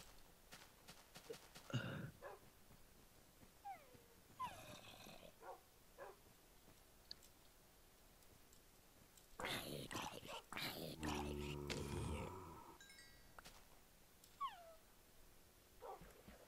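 Tamed wolves in Minecraft let out faint high whimpers and yips, scattered through the clip among game noises and soft clatter, with players talking over them.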